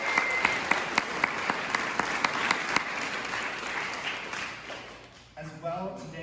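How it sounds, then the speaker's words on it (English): Audience applause at PuppetCon 2023, a room of people clapping steadily with a few sharp claps standing out. It tapers off near the end as a voice begins speaking. "Big round of applause."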